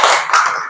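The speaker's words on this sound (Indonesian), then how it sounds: "Oke, tepuk tangan." A school class applauds together in a classroom, a short burst of dense, close hand clapping that fades out within a second.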